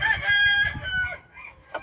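A Kelso game rooster, a brood cock that got loose and was beaten up in fights, crows once close by, a strained, raspy call that trails off in under two seconds.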